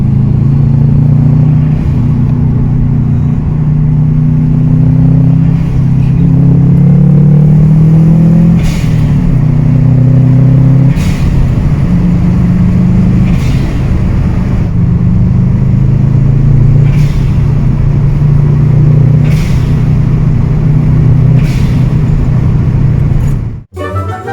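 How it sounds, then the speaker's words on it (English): A Subaru Impreza WRX engine runs with a loud, steady low rumble and shifting tones, with soft periodic whooshes of air drawn through the air filter, ending abruptly. "You should be able to hear a whoosh now coming through the air filter."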